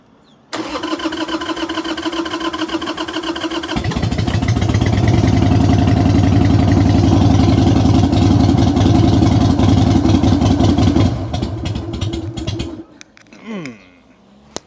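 A motorcycle engine, choked and given a couple of throttle twists, cranks briefly, then fires and settles into a loud, steady mechanical idle before cutting out near the end.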